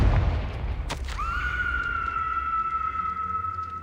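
A Confringo spell fired in Hogwarts Legacy, a deep booming blast followed by a sustained ringing magical tone that hangs steadily to the end, loud and close with no talk over it.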